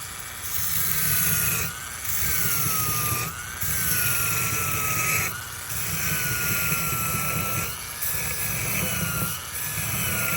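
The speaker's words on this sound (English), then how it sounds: "See, I sharpened that in front of your eyes and reestablish the angle right here" A pair of garden loppers is sharpened by hand, the blade worked freehand or clamped. Steady, close rasping strokes come in regular bursts about every one and a half seconds, with short pauses between them and a faint ringing tone running through.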